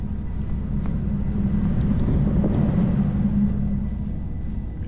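A steady low mechanical rumble drones continuously at a constant level, a Lennox pulse furnace running heard from outside, with no talking.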